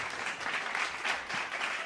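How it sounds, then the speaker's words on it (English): Steady, dense clapping from a crowd carries on evenly throughout at a moderate level, with no voices standing out. "extended applause for me tonight"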